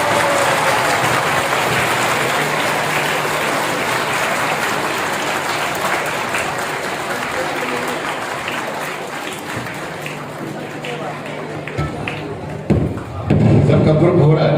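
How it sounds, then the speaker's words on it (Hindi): Loud, sustained applause from a large youth audience at a poetry-and-music event, dense clapping filling the whole stretch with some voices mixed in, easing slightly before a burst of thumps near the end. "जोरदार तालियां इन।"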